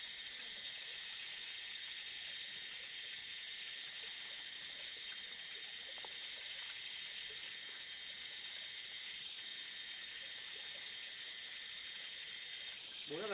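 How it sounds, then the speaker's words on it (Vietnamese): Chicken frying in a pan gives a steady, close sizzling hiss that holds evenly throughout with no pauses and no voices over it. "Bố đã phải rán gà chín chưa bố?"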